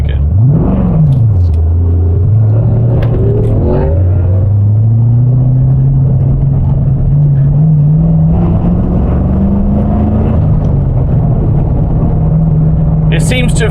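An LS3 V8 swapped into a Toyota GT86 idles and revs unevenly, the deep engine note rising and dipping as it bucks at low RPM, with people talking over the steady loud rumble.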